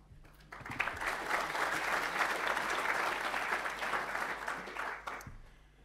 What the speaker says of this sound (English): That's generous applause before we start.